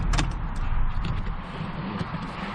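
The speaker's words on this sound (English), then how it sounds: "it's right up next to a busy interstate, so I hope the noise isn't too bad." Traffic from a busy interstate beside a hay field, heard from inside a truck as a continuous low rumble and rush of passing vehicles, fairly loud, with a few small clicks and knocks nearby.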